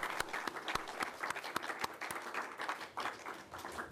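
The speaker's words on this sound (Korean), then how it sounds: "박수 한번." A church congregation at a Korean Sunday worship service claps together in a faint, distant patter of scattered hand claps that lasts a few seconds.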